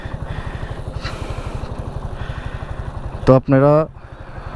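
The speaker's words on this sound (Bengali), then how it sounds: "এভাবে ধরে উপর দিকে টান দিলে যে স্টার্ট হয়ে গেছে আমার বাইক।" A kickless motorcycle, started by pulling up despite a damaged battery, idles with a steady rapid putter close by while someone speaks briefly near the end.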